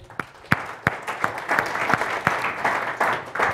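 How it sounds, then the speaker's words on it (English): A seminar audience at a project management training session applauds, starting with a few sharp separate claps that quickly swell into steady group clapping at moderate distance, with no talk. "Please give her a round of applause."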